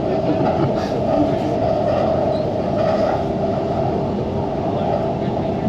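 A Sydney Metro train runs steadily between Tallawong and Sydenham with a constant loud rumble and hum, faint clicks over the tracks, and voices chatting over the noise.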